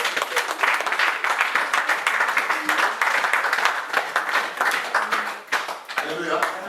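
A church congregation applauds during a worship service, sustained clapping from many hands filling the room steadily, with voices calling out beneath and the applause thinning slightly toward the end.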